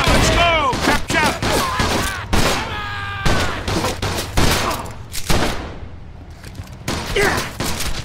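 Gunfire in Mafia II during a chaotic shootout: rapid bursts and single cracks of guns firing repeatedly, loud and close, with ricochet-like whines, shouted voices and brief pauses between volleys.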